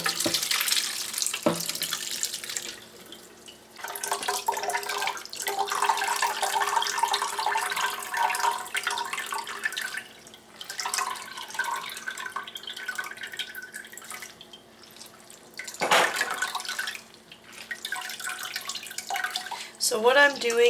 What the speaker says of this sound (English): now I'm just going to pour them through this strainer that I have lined with some cheesecloth